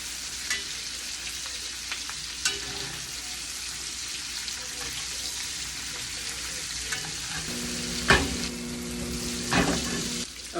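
Rosemary and garlic lollipop lamb chops frying in a pan, a continuous close sizzle with occasional clinks and a few louder tool knocks near the end, light talk underneath.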